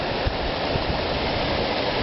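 The northwest dual waterfall at Desert Harbor Lake in Peoria, Arizona pours with a steady, full rushing roar. The sound stays close and even throughout, with no voices.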